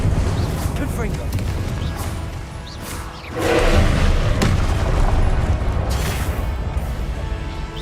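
Incendio and Confringo spell blasts in the Hogwarts Legacy video game, a dense loud rumble of booming impacts with a big burst near the middle, mixed with game noise throughout.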